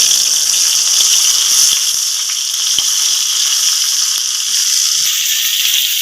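Chopped tomato hits hot oil already crackling with whole spices such as cardamom, giving a steady, loud, hissing sizzle with scattered small pops throughout.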